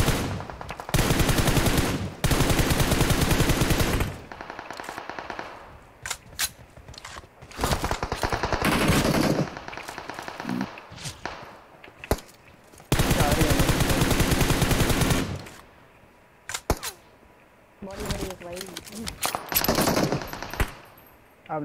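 Gunfire in PUBG Mobile: loud bursts of automatic weapon fire come in repeated volleys, separated by short gaps and quieter game sounds, with no talking.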